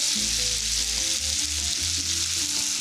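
Sliced white onion and browning beef for bricklayer-style tacos frying in a pan, a constant dense sizzle close by, layered over low tonal background music.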